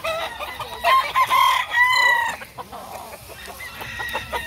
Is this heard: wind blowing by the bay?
no